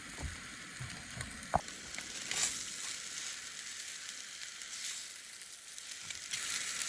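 Carp fillets fry in a pan with a faint, steady sizzle and light crackling, quiet and continuous with a few small pops.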